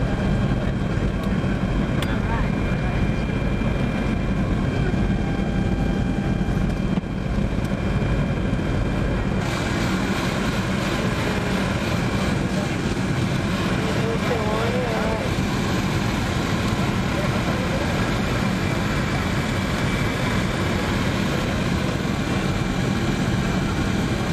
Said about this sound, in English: Now we're just landing.